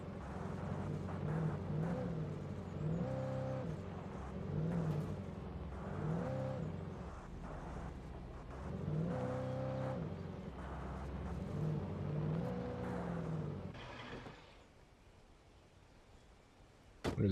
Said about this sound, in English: I'm definitely gonna get this truck stuck.